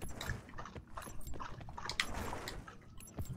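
A dog gives short, rough bursts of noise at moderate volume against a low background hum, scattered irregularly across a few seconds.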